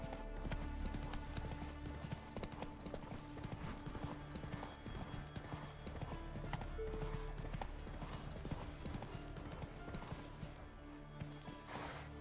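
Hooves of the horse Roach clip-clop in a steady trotting rhythm in the video game The Witcher 3: Wild Hunt, heard faintly over a game music and ambience bed with no clear talking.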